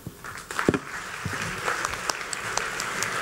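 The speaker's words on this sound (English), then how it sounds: "please give yourselves a round of applause" An audience claps at an evening event, scattered sharp claps at first that build into continuous applause from a sizeable crowd, fairly close.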